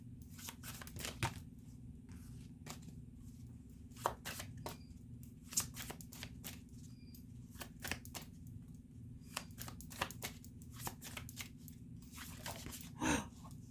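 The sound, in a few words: tarot cards being shuffled and pulled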